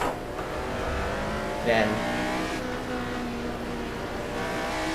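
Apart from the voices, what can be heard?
Formula 1 car engine on slick tyres at Goodwood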